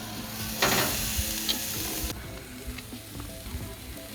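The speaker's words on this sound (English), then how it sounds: "So I'm just gonna flash my steaks" Sirloin steaks laid on a hot barbecue grill give a loud, close hiss of searing that flares up at first and then settles into a steady sizzle with small pops, no voices over it.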